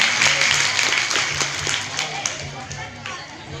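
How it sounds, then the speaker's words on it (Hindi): Applause from an audience at a Hindi comedic poetry event in Madhya Pradesh, a steady wash of clapping with a low hum of crowd noise that fades somewhat toward the end. "एक बार जोरदार तालियां इनके।"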